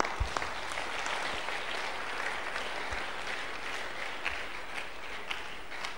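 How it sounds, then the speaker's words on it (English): A church congregation claps for Jesus during a sermon, a broad continuous wash of many hands with a few sharper accents, steady from start to finish. "Clap for Jesus, please."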